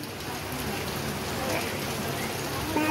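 Heavy downpour of rain in Chhatrapati Sambhajinagar, a dense steady hiss of falling water that holds through the whole stretch, with faint voices in the background.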